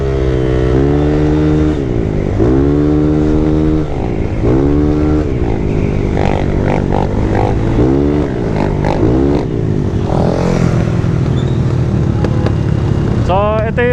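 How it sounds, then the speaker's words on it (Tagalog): A Honda Click scooter engine revs and shifts through repeated rising bursts, close and loud, with wind noise and a little clatter near the end. "ito yung review natin sa motor ni Boss Rap"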